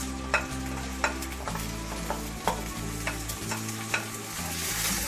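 Two cups of washed rice frying in a pot for homemade chicken and mushroom rice, with a steady sizzle broken by regular scraping stirs about once a second, close and alone over a low hum.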